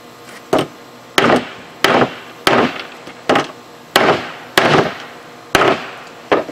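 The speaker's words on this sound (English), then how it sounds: "Get a nice hammer." A hammer strikes a golf cart seat being refreshed against a 2x4, landing about nine sharp, loud blows at a steady pace of roughly one per second, each with a brief woody ring.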